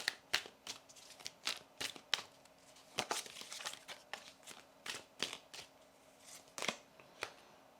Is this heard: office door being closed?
no